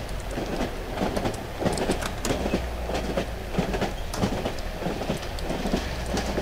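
A train rides along in the Cry of Fear horror game, giving a steady rumbling roll with faint rhythmic clatter that continues evenly throughout and stays fairly loud.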